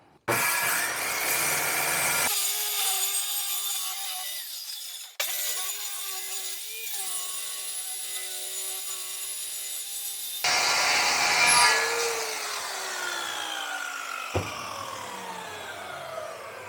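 A circular saw rips through lumber along a homemade track-saw guide rail. The high motor whine runs in long sustained passes, with a brief pause and a spin-down between cuts, loud and close.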